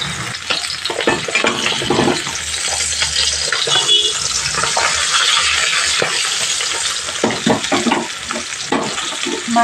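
Bata fish sizzling steadily in hot oil in a pan, a dense, continuous crackle with occasional louder spits and pops and no voices.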